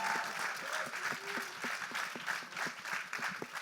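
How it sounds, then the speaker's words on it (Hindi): Audience applause at the Gustaakh Ishq trailer launch event, a steady wash of many hands clapping from a moderately distant crowd, continuous for several seconds. "जोरदार तालियां।"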